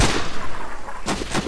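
A sniper rifle fires in the video game Sniper Ghost Warrior: a couple of sharp, loud blasts close together near the end, following a stretch of dense noisy game ambience.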